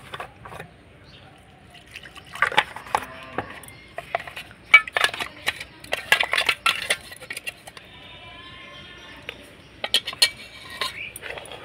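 Batter for chitoi pitha is mixed in a bowl, giving wet sloshing and irregular clinks of a spoon against the sides that come in bursts between quieter moments, with some low speech alongside.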